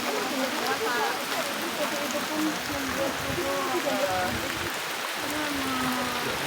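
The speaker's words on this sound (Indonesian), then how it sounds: "Nah, hujan lebat nih." Dense, steady rainfall hisses continuously in Banten, Indonesia, with a low rumble underneath and faint voices murmuring in the background of people sheltering.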